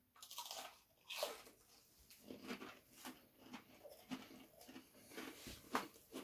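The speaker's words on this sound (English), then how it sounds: "you get to listen to me eat cheese" Someone chewing crunchy cheese biscuits up close, with repeated bites and crunches in an uneven rhythm, no talking.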